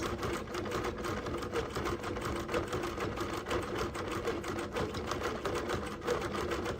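Bernina Q24 longarm quilting machine with Q-matic stitching an edge-to-edge floral design, a steady, rapid mechanical chatter running evenly at moderate volume throughout.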